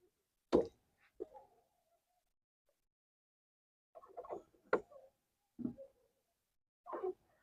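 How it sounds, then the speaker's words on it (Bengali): Water drips falling through a leak sealed with aluminium tape, a few separate plops with gaps of silence between them, close and fairly soft. "দেখ জল পড়ছে।"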